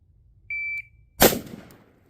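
A shot timer gives one sharp, steady electronic beep during a pistol drill, followed about half a second later by a single loud, close gunshot with a quick decaying echo; no talking.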